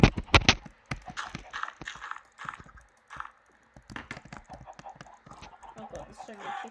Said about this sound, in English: Oh god, there's so many chickens here.